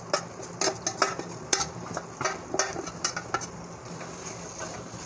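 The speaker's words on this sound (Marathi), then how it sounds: "मिक्स करून घेऊया" A spoon scrapes and taps through guar bean vegetable in a pan as crushed peanut powder is stirred in, giving irregular close clicks and scrapes over a soft background hiss.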